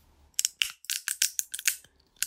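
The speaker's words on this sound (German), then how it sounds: "Wenn man zwei Nüsse Spalt an Spalt mit der Hand drückt, dann brechen sie auf." Two walnuts are pressed together seam to seam by hand until they crack, producing a quick run of about eight sharp, close, crisp cracks and crunches.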